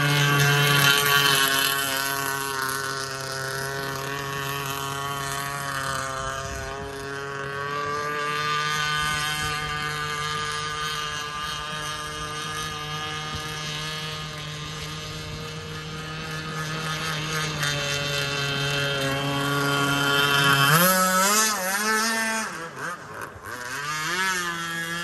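A Pro Boat Shockwave 55 RC speedboat races across water, its high-pitched electric motor whining loudly and steadily, rising and falling in pitch as it speeds up, turns and slows near the end.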